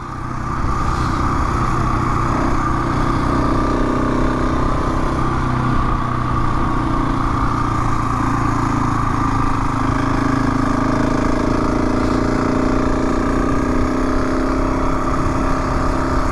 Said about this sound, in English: I love bringing the bike out into the country like this, standing up on the pegs